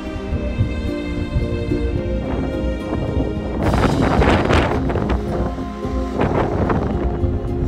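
Strong gusty wind sweeps along the Isle of Skye coast in autumn, a steady roaring buffet that swells into a harder, louder gust partway through, with no voices.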